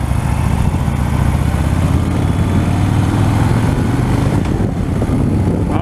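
A 2016 Harley-Davidson Fat Bob rumbles close and loud throughout a test ride, a steady low engine drone with slight swells and no talking.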